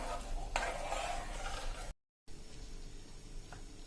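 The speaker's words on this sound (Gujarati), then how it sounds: "3 થી 4 મિનિટ આ રીતે આપણે હલાવીને એને તૈયાર કરી લેશું" Raw mango syrup being stirred in a pot on a gas stove, a steady soft scraping and bubbling hiss with one sharp utensil knock, briefly cut to silence before quieter stirring resumes.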